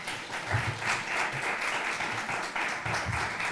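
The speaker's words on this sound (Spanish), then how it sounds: "os pido un fortísimo aplauso para él" An audience at a research talk on immunology and the pandemic claps warmly for a translational immunology group leader, a steady, dense round of applause lasting several seconds with no speech over it.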